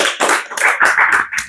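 A few people clap together in an uneven rhythm on a casual talk show set, close and fairly loud, the claps coming in separate bursts over about a second and a half.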